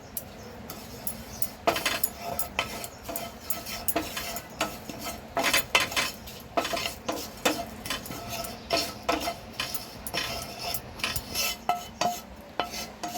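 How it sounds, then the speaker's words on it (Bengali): Kasuri methi and spices dry-roasting in a pan over medium heat, with a spatula making repeated close scraping and clinking strokes against the metal in an irregular rhythm over a faint hiss. "এবার এর মধ্যে আমি কাসুরি মেথিটা একটু গরম করে নেব"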